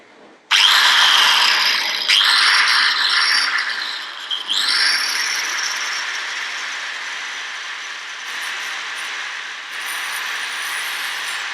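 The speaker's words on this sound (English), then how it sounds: "I'm going to just try the drill again on that one" A power drill fitted with a multi-use disc whirs continuously at close range, starting abruptly with brief pitch dips and restarts before settling into a steady high whine.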